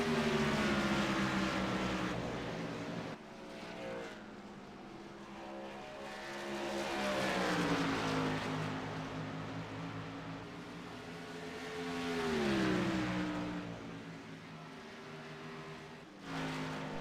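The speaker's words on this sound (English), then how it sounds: "You can hear those cars getting ready to blast around this track." Race cars at Talledega in the iRacing simulator, with engines droning and revving in layered, shifting tones that rise and fall as the cars pass, loud and continuous with no talk.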